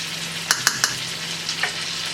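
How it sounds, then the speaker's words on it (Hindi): Tomato masala with turmeric, salt and spices frying for dal: a steady close sizzle throughout, with three sharp clinks of a stirring spoon against the pan early on and a softer scrape near the end. "मसाला हम यहाँ पर भून रहे हैं"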